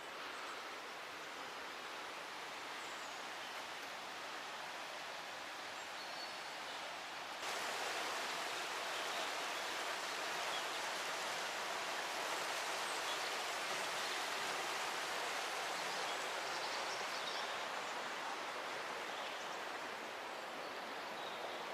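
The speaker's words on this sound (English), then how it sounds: "where the water's crazy and it's wild, running underneath the rocks" A wild, dangerous stretch of river rushing over and beneath rocks: a continuous, loud, dense roar of churning water that holds steady throughout, with no voices.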